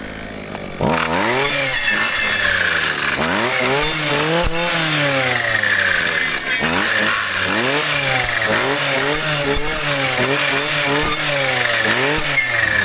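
An older Husqvarna brushcutter engine runs loud and close, its two-stroke whine rising and falling again and again as the throttle revs up and eases off, continuous throughout.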